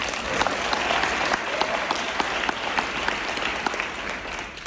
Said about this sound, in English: Let's give it a round of applause for our presenters here and for our hosts.